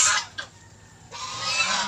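A pet goose at a backyard farm gives a couple of short honks near the start, followed by a longer, brighter honking call toward the end, fairly close with no talk over it.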